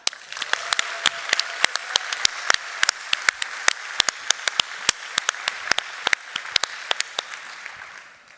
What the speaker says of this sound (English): please join me in giving them a clap